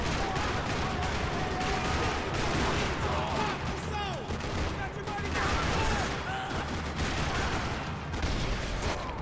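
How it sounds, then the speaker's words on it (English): Sustained gunfire rattles through a parking lot shootout in the Max Payne 3 video game, with rapid overlapping shots, bursts and clattering impacts, loud and continuous for several seconds. "Another parking lot rattling with gunfire"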